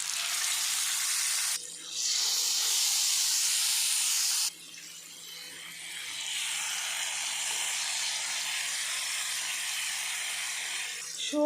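Pomfret fish coated in masala frying in hot oil, a loud, steady hiss and sizzle that drops briefly, surges back, then settles to a softer continuous fry, with no talk.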